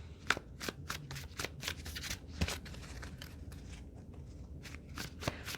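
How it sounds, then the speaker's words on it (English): A deck of Spirit Song Tarot cards is shuffled by hand, close by. It makes a quick run of crisp riffling flicks and soft slaps in an uneven rhythm, with no talking. "Just a few cards from the Spirit Song Tarot."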